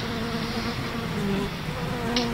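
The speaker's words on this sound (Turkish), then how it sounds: "Sarışın sinek." A fly buzzes loudly and continuously close by, a steady droning hum with no pauses and no voices.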